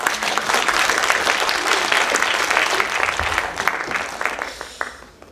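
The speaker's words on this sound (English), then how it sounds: "let's give them another round of applause" Loud, dense audience applause at a youth empowerment foundation's annual awards ceremony, holding strong for several seconds before thinning into scattered claps as it tapers off.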